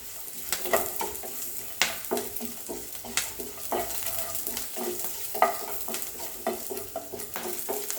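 Makhana curry ingredients being stirred and roasted in a pan, with steady frying sizzle and repeated scraping stir strokes and light clinks throughout, close and moderately loud, no talk.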